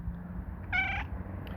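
A black cat gives a single clear meow, close and moderately loud, over a low steady background hum with no talking.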